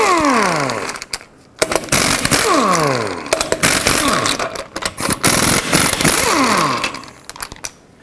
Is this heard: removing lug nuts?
yes